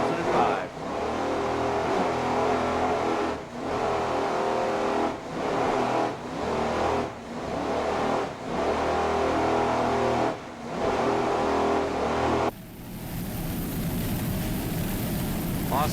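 Racing powerboats in the P3 class at the 2005 Miami Grand Prix in big seas, engines roaring loud and steady with repeated surges and dips, the tone changing near the end, with a commentator's voice running over the top.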